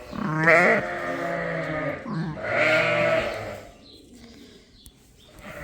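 Two loud, wavering sheep bleats close by, one after the other, followed by quieter rustling and farmyard background.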